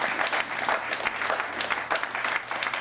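Church congregation applauding at a sermon, steady dense clapping throughout, fairly close and uniform with no pauses.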